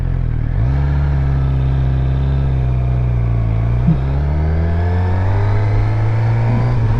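Motorcycle pulling away in first gear: a steady, close engine drone holds low at idle, then revs rise smoothly as it gets moving, loud and continuous with no voices.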